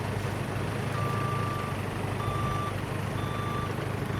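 A lorry delivering a house sounds its reversing alarm in a series of evenly spaced beeps over a steady low engine rumble, close by and continuous.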